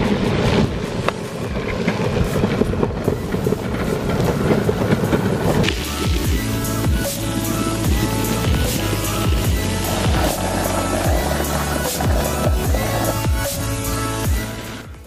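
A Wowgo 2S electric skateboard rides over rough ground with loud, continuous rattling, rolling wheel noise and wind buffeting. Rhythmic bumps and clacks from uneven terrain repeat steadily, and no one speaks.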